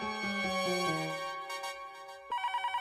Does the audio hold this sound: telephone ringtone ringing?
yes